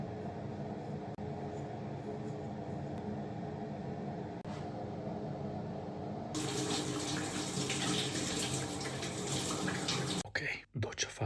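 Water from a shower runs in a steady hiss that grows noticeably louder and brighter partway through, then cuts off and breaks up near the end, with indoor background sound under it.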